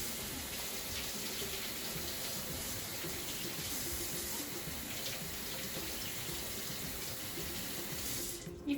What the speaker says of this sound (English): I'm just going to run cool water over them.